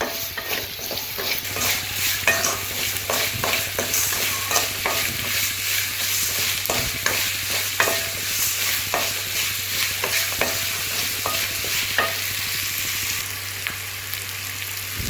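Curry mixture being stirred and fried in a pan for village-style karuvadu kolambu, with repeated scraping strokes of a spoon over a steady close sizzle and a low hum underneath.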